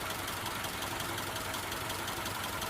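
A 1998 Honda Civic EX engine idles roughly and choppily in a parking lot, a steady low rumble with faint uneven knocking throughout, close and alone with no talk.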